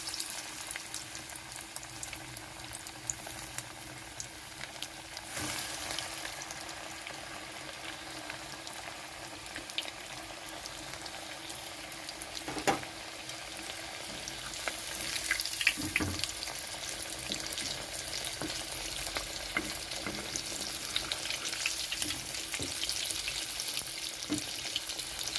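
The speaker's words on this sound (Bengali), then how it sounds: "এখন আমি এখানে ভাজার জন্য ছেড়ে দিচ্ছি" Chicken cutlets fry in hot white oil in a frying pan, a soft continuous sizzle with occasional faint pops and clinks, fairly quiet throughout and with no talking.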